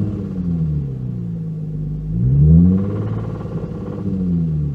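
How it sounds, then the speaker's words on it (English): A 2000s Infiniti G35 coupe engine with rod knock idling roughly, then revving up briefly before settling back, with a low knocking rumble running underneath. "the main focus of this car is to fix the rod knock"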